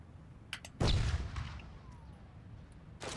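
Sniper rifle shots in the video game Saints Row: a couple of faint clicks, then one loud booming shot with a short decaying tail, and another report beginning at the very end.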